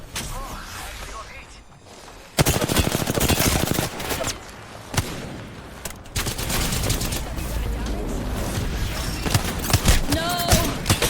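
Rapid automatic gunfire in the video game Apex Legends rattles in dense bursts after a quiet opening, loud and close, with a player talking over the shooting.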